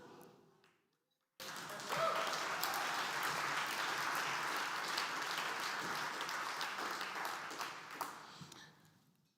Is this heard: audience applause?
yes